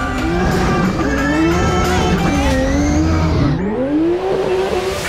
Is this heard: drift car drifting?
yes